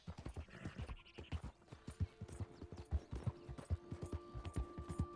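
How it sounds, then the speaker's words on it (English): Horse hooves clip-clop in a steady galloping rhythm during a first-person ride in Red Dead Redemption 2, with a faint whinny and ambient tones underneath. "I'm riding my horse while in first person."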